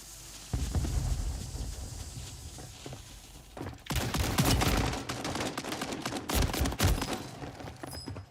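Shotgun fire in a first-person shooter, sharp repeated blasts in bursts that grow louder partway through, mixed with footsteps and other combat noise.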